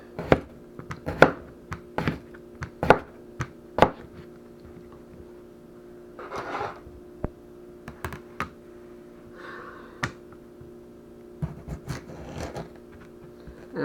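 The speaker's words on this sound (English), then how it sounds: "So I'm cutting 4 potatoes, which is more than enough." Knife chopping potatoes into bite-sized pieces on a cutting board for a slow cooker pot roast, sharp irregular knocks in quick bursts separated by pauses, close and crisp.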